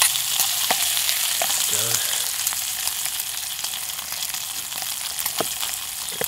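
Bacon sizzles and crackles steadily in a pan at an outdoor cookout under a tarp, with a continuous close hiss and scattered pops. A brief spoken word comes in once.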